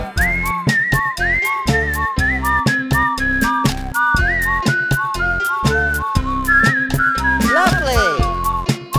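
Someone whistles a series of short, bright notes and rising slides to a musical mug that answers with tuned musical tones, both loud and close throughout.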